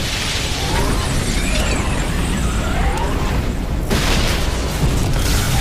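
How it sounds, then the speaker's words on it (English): Loud, continuous roaring blasts and rumbling booms of secondary explosions in a starship's engineering area, dense with crackling debris and mechanical clatter, filling the whole stretch without letup. "We've got secondary explosions in the engineering area."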